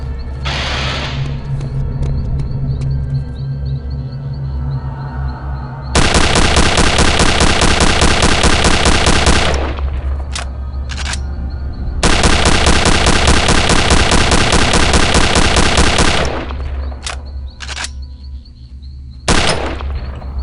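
Gunfire in Return to Castle Wolfenstein: loud, long bursts of rapid automatic fire, each lasting several seconds, separated by short single shots and a low engine-like rumble underneath.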